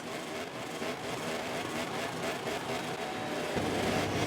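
Motorcycle engine revving on the starting grid in the racing game MotoGP 24, a steady loud mechanical drone that holds for several seconds and deepens near the end as the pitch drops lower.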